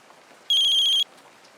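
A telephone in a Korean horror radio story gives a single, bright electronic ring that lasts about half a second, clear and close over a faint, quiet background.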